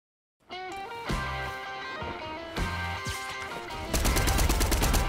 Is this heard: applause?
no